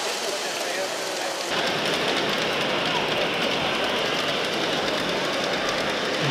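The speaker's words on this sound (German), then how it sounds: "Und hier kommt der berühmte Shinkansen, der japanische Hochgeschwindigkeitszug" A model Shinkansen, the Japanese high-speed train, runs along its layout at a model railway exhibition in Vienna. It makes a steady, loud rushing rumble that sets in abruptly and carries on unbroken through the hall noise.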